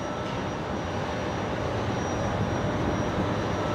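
A USAF C-17 spools its jet engines up at Brisbane Airport, a steady broadband roar with a thin high whine running through it, continuous and fairly near, no talking.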